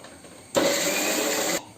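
A mixer grinder whirs steadily for about a second as it grinds coconut, onion and garlic, a loud close motor hum starting and stopping abruptly against quiet room tone.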